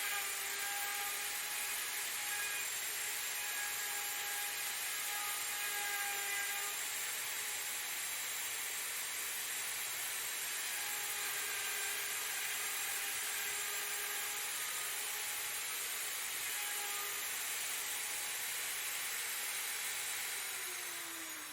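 A router guided by a pin along a template cuts a wooden dovetail joint for a coffee stand. It makes a continuous high, whining, hissy cut that holds steady and close throughout.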